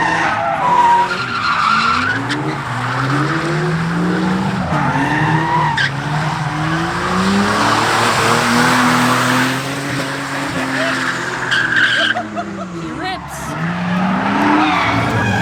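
A Toyota JZX90 drift car slides with long rising and falling tire squeals and a revving engine, close and loud, sustained for many seconds with brief breaks.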